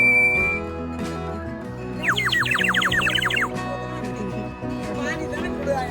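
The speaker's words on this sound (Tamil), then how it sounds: "ஒரே விசில் ஊதுனா கொஞ்சம் கொஞ்சமா ஊதி ஊதி" Short bursts of a small whistle being blown in quick puffs, loud and close, sounding for about a second and a half with chatter and crowd noise around it.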